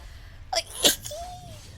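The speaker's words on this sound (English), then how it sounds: "I gotta sneeze." A single sharp sneeze, preceded by a short inhaled catch of breath, close and loud, followed by a faint trailing whine.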